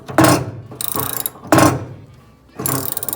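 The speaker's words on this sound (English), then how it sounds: "That's the vice grip turning and banging." Vice grips clamped on a bolt of a 1953 Willys Jeep CJ3B tub turn and bang, giving two sharp metallic bangs each followed by rapid ratcheting clicks, loud and close in a workshop.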